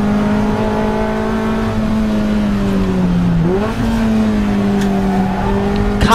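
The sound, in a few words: Toyota MR2 race cars racing at Donington Park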